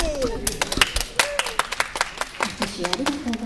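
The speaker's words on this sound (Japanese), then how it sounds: "拍手ありがとうございます。" Audience at a dads' band festival live concert claps in a burst of scattered hand claps, fairly close and lively, while an announcer speaks over the applause.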